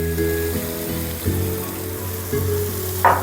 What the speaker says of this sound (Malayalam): ഇത് നന്നായിട്ട് ഇളക്കി, ഇത് സിമ്മിൽ വെച്ച് വേണം ഇത് വേവിക്കാൻ.